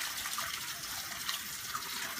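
Black-eyed beans being washed in water, a steady close splashing and rushing of water that continues throughout without pauses or voices.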